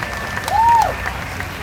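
A crowd at a March for Science talk in San Jose applauds outdoors, a short burst of many hands that swells and fades, with a brief rising-and-falling whistle or cheer in the middle.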